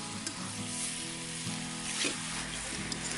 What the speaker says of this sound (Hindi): इसे हम 10 से 15 मिनट के लिए भूनेंगे।